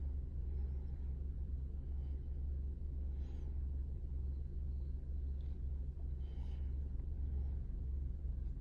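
A Honda Civic with an i-Shift automated gearbox idling steadily after being put in drive, a constant low engine rumble with faint mechanical ticks and clicks over it.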